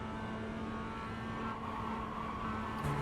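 A race car engine in the iRacing sim racing game drones loudly and continuously, with a slight shift in pitch as the throttle comes on and off.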